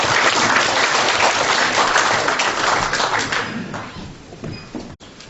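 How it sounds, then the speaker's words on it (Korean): Audience applause welcoming a book reviewer to the stage at a Korean political lecture and book launch event, steady dense clapping from a crowd that thins and fades toward the end. "여러분 큰 박수로 맞아주시기 바랍니다."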